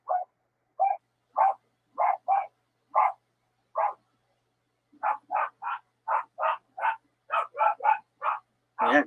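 A pet dog barks repeatedly in short sharp bursts, fairly close, with a pause in the middle before a faster run of barks resumes; no talking.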